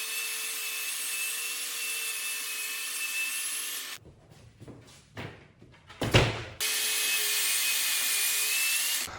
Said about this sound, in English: let's just go ahead and start breaking down the plywood into 2 foot by 4 foot sections